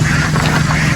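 Domestic ducks being raised on a farm quack close by in a short, loud burst, a couple of nasal calls over a steady low background hum.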